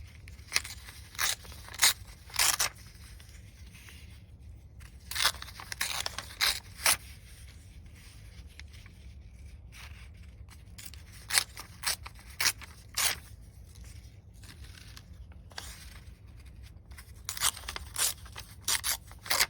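Scissors cutting paper for a junk journal project, close crisp snips and crunchy slices coming in short bursts separated by quiet pauses.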